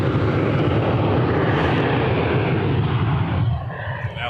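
An Emirates airliner landing at Toronto Pearson gives off a loud, broad jet roar that holds steady for several seconds and then tapers off as it passes.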